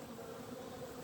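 Bees buzz in a steady, continuous drone around an open Black Betty hive after the wooden section is lifted off, a close, even hum with no talking.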